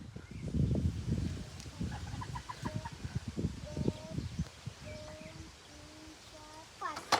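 Several chickens cluck and make short tonal calls nearby, scattered irregularly over scratching and rustling noises.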